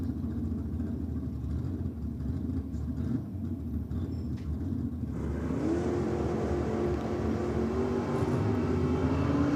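A Chevrolet 350-cubic-inch Camaro drag car running down a drag strip at a nitro drag racing event, its loud, close engine roar building steadily and climbing to a higher-revving note through the second half.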